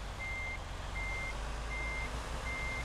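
Reverse-gear warning beeps from a flatbed truck in American Truck Simulator, four evenly spaced steady tones pulsing over a continuous low diesel engine rumble, with no talking.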